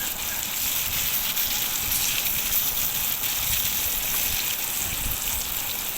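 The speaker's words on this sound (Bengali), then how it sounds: "কুমড়াগুলোকে আমি একটু হালকা লাল করে ভেজে নিচ্ছি" Pumpkin pieces are frying in hot oil for a prawn and sweet pumpkin curry. A steady, close sizzle with an even hiss lasts throughout, and no one speaks.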